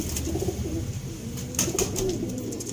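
A pair of Sialkoti high flyer pigeons coos softly and steadily, close by, with a low repeating murmur through the whole stretch.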